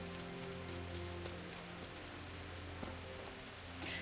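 Steady rainfall in a medieval town in Kingdom Come: Deliverance, a faint, even hiss of drops over a low ambient hum, with no voices.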